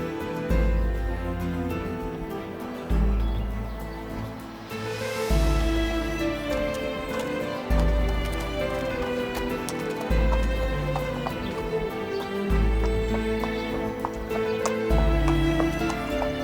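Horses at a stable walk with rhythmic hoof clops, accompanied by a couple of whinnies and music in the background.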